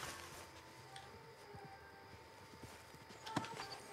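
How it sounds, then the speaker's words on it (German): Horse hooves clip-clop in Red Dead Redemption 2, a steady trot of a single horse drawing nearer over soft ambient game sound, growing slightly louder toward the end. "Schon mal mein Pferdchen herholen."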